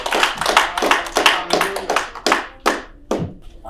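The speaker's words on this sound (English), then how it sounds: "Let's clap for the Lord." A church congregation claps after a prayer, loud close-up claps from a few hands in an irregular rhythm, thinning to scattered single claps with gaps toward the end.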